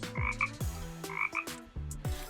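A frog croaks in a quick, rhythmic series of throaty, resonant calls, close and clear, with no talking.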